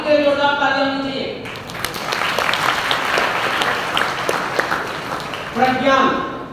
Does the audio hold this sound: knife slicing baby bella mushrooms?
no